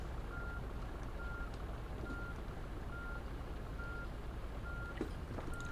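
A VDL Futura FDD2 coach reversing in Fernbus Coach Simulator, its steady beeper repeating at an even pace over a constant low engine drone, with a few faint clicks near the end.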